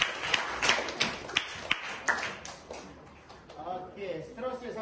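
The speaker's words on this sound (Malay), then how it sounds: "tepuk tangan untuk Aminah" A classroom of students claps for a classmate, a scattered run of sharp hand claps that thins out, with talking under and after it.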